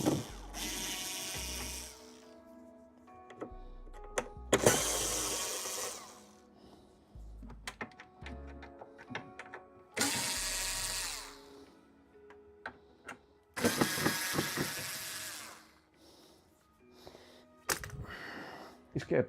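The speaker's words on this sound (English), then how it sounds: "let's undo these screws." Screws being undone by hand, heard as scattered small metallic ticks and ratcheting clicks, some quick bursts, with bursts of closer handling noise between them.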